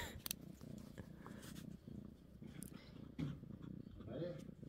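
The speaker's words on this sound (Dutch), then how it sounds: "Chaos is een Hongaarse kat" A Hungarian cat purrs softly and steadily close by, with a person talking over the quiet rumble.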